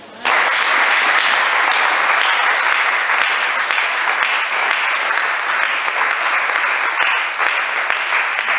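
A church congregation breaks into loud, sustained applause that begins abruptly and holds steady for several seconds, dense clapping close by with no voices standing out.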